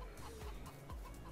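Chickens cluck in the farming game Farming Simulator 22, a few short, quiet clucks in quick succession over a faint background.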